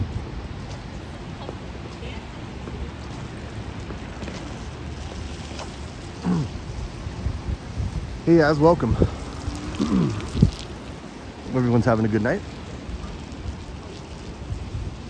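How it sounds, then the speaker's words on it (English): Soft, steady rain patters in the background on a foggy night street, while a person speaks close by in short phrases over it. "It's been raining on and off."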